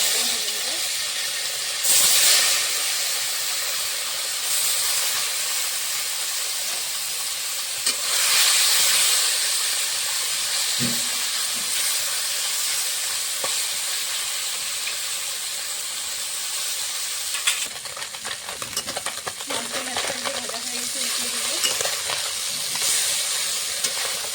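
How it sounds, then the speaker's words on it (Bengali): Continuous hissing sizzle of fish frying in mustard oil in a wok, loud and steady with occasional brief surges of spitting and steam. "কড়াতে আমি মাছ ভাজার জন্য সর্ষের তেল দিয়ে দিয়েছি"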